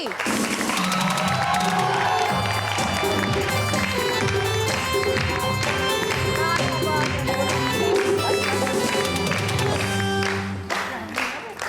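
Loud studio audience applause and cheering on a television game show, a dense crowd clapping steadily over bright music, ending with a few scattered claps as it fades.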